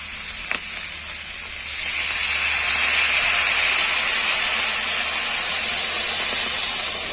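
Water poured into a pan of chicken legs frying in hot oil sets off a sudden, loud burst of hissing sizzle and steam that keeps roaring steadily after a quieter bubbling start.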